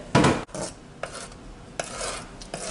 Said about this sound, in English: we're going to be stirring our sauces. We don't want to let it stick to the bottom.